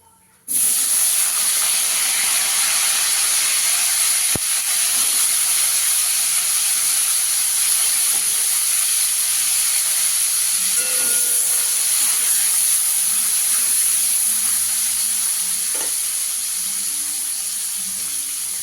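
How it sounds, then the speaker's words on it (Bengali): Potatoes fry in a few spoonfuls of oil, starting with a sudden loud hiss that settles into a constant, close sizzle and fades slightly toward the end, with occasional faint clinks. "তিন চামচ তেল দিয়ে দেবো। আলুটা ভেজে নেব।"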